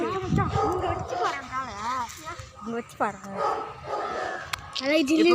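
A dog yips, whimpers and barks in short high rising calls several times, close by, mixed with people talking over it.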